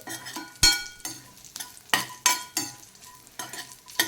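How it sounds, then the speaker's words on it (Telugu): Pakoda pieces fry in hot oil with sweet corn, a soft steady sizzle punctuated by sharp scrapes and clatters of a spoon stirring in the pan. "కొంచెంసేపు ఈ ఆయిల్లో వేయించుకోవాలి ఇప్పుడు పకోడీ కూడా కొంచెం క్రిస్ప్ అవుతుంది"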